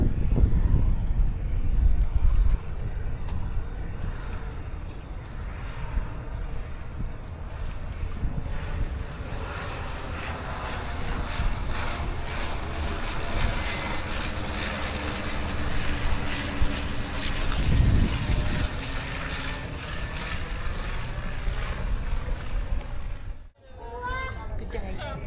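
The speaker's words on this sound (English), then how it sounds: "another float plane coming in." A propeller-driven float plane flies in over water in Alaska. Its engine drones steadily and loudly throughout, swelling as it passes, with faint background sounds.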